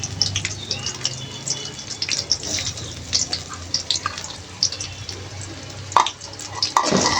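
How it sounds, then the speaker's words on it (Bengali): Chopped onion is stirred and lightly fried in oil in a pan for halim made with beef. Scraping and clinking from a utensil sits over a steady soft sizzle, with a few louder knocks near the end. "একটু নেড়ে চেড়ে হালকা ভেজে নিব।"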